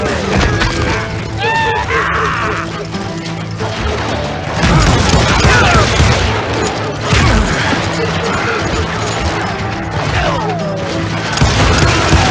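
Gunfire from Call of Juarez Gunslinger: loud, repeated crashing shots and booms in bursts, mixed with voices and music.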